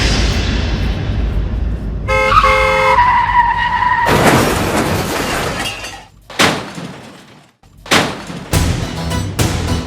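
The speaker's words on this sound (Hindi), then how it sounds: "आपने मेरी गाड़ी ठोक दी" A car skids with a long screech, then crashes into another car with a loud metallic impact and shattering glass, followed by several sharp bangs and debris clatter in a staged Hindi TV comedy scene.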